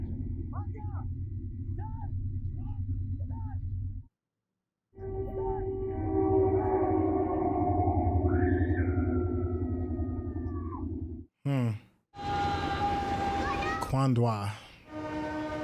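Rumbling train from the film Lion, with a child aboard a coal train, heard as a steady low rumble and horn-like tones, interrupted by brief gaps and overlaid by talking voices.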